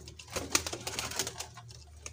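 A pigeon coos softly nearby at a pigeon seller's place in Multan, with soft rhythmic calls repeating over faint background noise.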